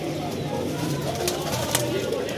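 High-flyer pigeons at a Lahore loft give soft, low repeated coos in a steady pulsing rhythm, with faint rustling and a couple of brief clicks nearby.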